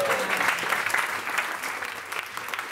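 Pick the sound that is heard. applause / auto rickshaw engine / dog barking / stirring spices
applause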